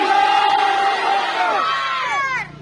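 Large crowd chanting the Nara-e-Takbir slogan at a public gathering, many voices shouting in unison loudly and close, holding a long sustained cry that tapers off near the end.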